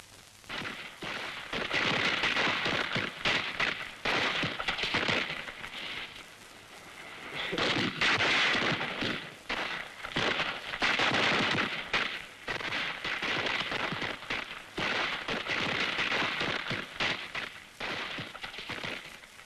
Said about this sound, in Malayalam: എന്റെ മന്നി വെടിക്കെട്ട് കാണുന്നില്ലേ?